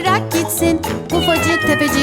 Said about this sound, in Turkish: Çok tatlı bir kedicik